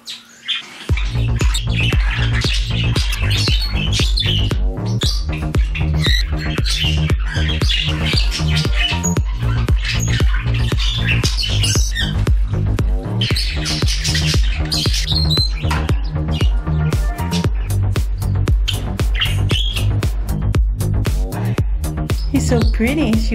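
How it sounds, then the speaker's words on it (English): A bird room holding 26 pet birds fills with loud, nonstop squawks and chirps, many calls overlapping in a dense, busy chorus close by. "I have a bird room with 26 birds."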